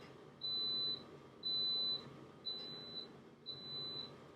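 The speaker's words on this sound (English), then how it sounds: "I don't know if you can hear that beeping. That's my rice cooker waiting." A rice cooker beeps indoors, four evenly spaced high electronic tones about a second apart, faint and alone over quiet room noise.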